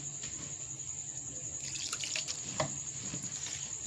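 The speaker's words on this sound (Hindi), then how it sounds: "अब थोड़ा थोड़ा इसमें पानी डाल के इसको अच्छे से इसकी डो बना लेंगे।" Water trickles and splashes into a bowl of flour while kachori dough is being mixed, a soft steady dribble with small wet spatters, close but fairly quiet.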